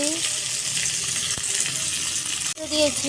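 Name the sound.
chopped tomatoes frying in a pan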